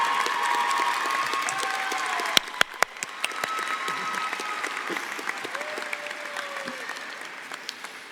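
A convocation audience applauds an honoree in a hall, steady sustained clapping from many hands throughout, with a few sharper claps near the middle and no voices above it.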